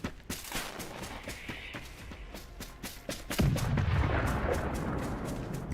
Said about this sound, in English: Russians report that the Bradley was stopped and artillery opens fire.